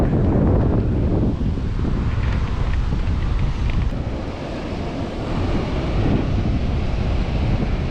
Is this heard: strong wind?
yes